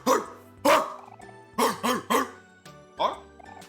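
A puppy barks in the video game OMORI, giving several short, fairly close yips in an uneven series over a soft background of game music.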